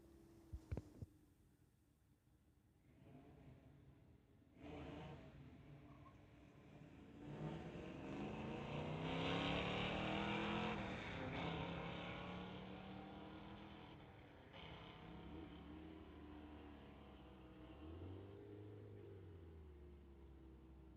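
A Camaro launching at a street-legal drag race at a MOPAC event, the engine building from a distant rumble into a loud, rising wail as it accelerates down the strip, then fading away with other motors idling in the background.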